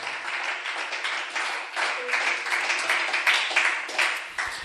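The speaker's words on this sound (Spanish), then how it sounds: "Dele ese aplauso al Señor en esta hora" Church congregation claps in a long, continuous round of applause during a worship service, dense and fairly even with slight swells, some voices mixed in.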